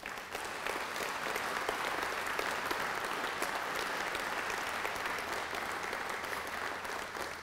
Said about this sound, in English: They all deserve a nice round of applause